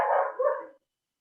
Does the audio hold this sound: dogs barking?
yes